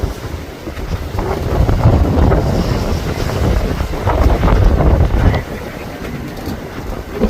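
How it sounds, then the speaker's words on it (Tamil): Storm wind roars and buffets the microphone while fishing boats pitch on a rough sea, the loud gusts rising and falling with the churn of waves against the hulls. "இந்த கடுமையான புயல் காற்றுல நம்ம கம்பெனி போட்டு நம்ம போட்டு பக்கத்துல வர்றதே பாக்குறதுக்கு ரொம்பவே பயங்கரமா இருந்துச்சுங்க"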